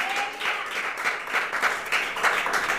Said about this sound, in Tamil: எல்லாம் கைத்தட்டி கர்த்தரை ஸ்தோத்திரம் பண்ணுங்க